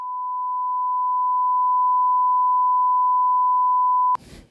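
A censor bleep on a podcast: one steady pure tone held for about four seconds, loud and alone, cutting off abruptly into a brief rustle.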